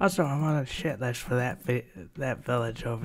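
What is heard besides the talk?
No everyday noise stands out behind the speech.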